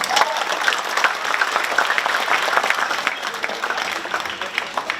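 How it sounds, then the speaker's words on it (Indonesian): Audience applause at a Lenong theatre performance in Jakarta, with a busy crackle of many clapping hands, some individual claps standing out close by, sustained throughout at a moderate level. "Tepuk tangan."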